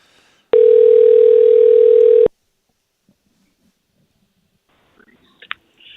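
A telephone line rings out while calling a contest winner: one steady, loud ringback tone lasting nearly two seconds, then near silence broken by a few faint clicks and rustles.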